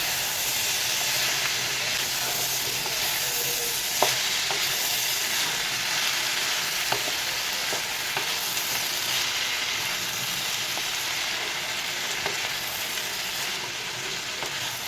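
Mixed vegetable curry sizzles and hisses steadily in a hot pan while it is stirred and tossed, with occasional sharp utensil clicks against the metal and no voices.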